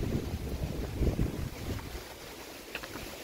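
Wind gusts across the open cliff top at Tinker Cliffs on the Appalachian Trail, buffeting the microphone with a loud low rumble that eases partway through into a steadier breezy hiss.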